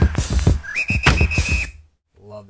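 Commodore 64 emulator synth patch playing a rising pitched whistle-like tone over punchy dirty drum hits, loud and close, ending in a short faint tail.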